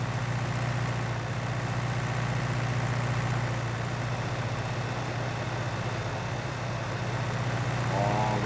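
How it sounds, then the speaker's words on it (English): Small tractor in Farming Simulator 19 pulling a baler, a steady low engine drone that holds constant and loud throughout with no break. "It is taking most of our tractor's horsepower to do this."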